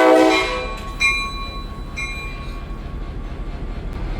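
A diesel locomotive horn blasts at the Illinois Railway Museum, a loud chord sounding up close at the start and then cutting into two shorter, quieter blasts over a steady rumble, with no one talking.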